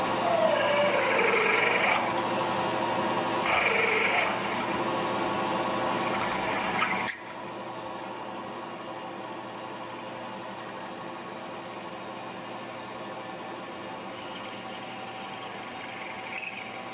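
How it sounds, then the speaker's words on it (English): An electric drill with a regular bit whines in short bursts and then runs steadily drilling into wood, a high buzzing drone with no talk. "Alright, let's drill this."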